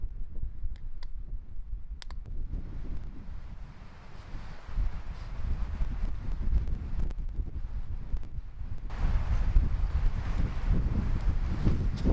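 Strong wind buffets the microphone in a continuous low roar, with scattered clicks and ticks and gusts building louder toward the end.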